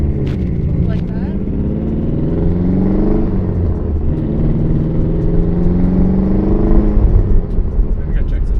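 Mitsubishi Evo engine revving with an odd gurgling sound, a loud close rumble rising and falling in pitch with uneven burbling, under people talking.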